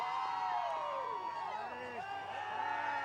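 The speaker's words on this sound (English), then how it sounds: "Pierce crowd on the near side really getting into it" Pierce fans roar and whoop from the near side at a high school state football championship game, a dense, steady crowd din with scattered shouts and bellows throughout.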